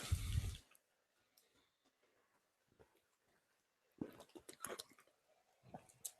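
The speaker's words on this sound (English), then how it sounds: "I'm sure you all love hearing the sound of me drink water." A person drinks water up close, with a loud gulping burst at the start, then near silence before wet swallowing and slurping sounds return in short irregular bursts.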